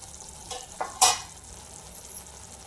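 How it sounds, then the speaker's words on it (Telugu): Ground paste frying in a pan for soya chunk curry, a faint background sizzle broken by a few quick stirring scrapes, one sharper clatter standing out near the middle, no talk. "ఈ పేస్ట్ని ఇందులోకి వేసేసుకొని కొద్దిగా ఫ్రై చేసుకోవాలి పచ్చివాసన పోయేంత వరకు."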